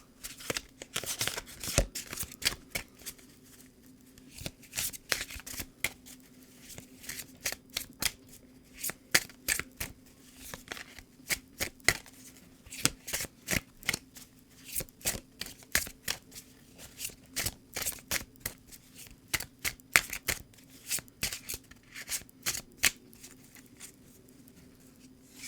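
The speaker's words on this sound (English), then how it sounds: "let's pull a card from the Familiar Field Oracle" Oracle cards from the Familiar Field Oracle deck are shuffled by hand in a close, rapid patter of quick riffling bursts that go on steadily with short pauses; no one speaks.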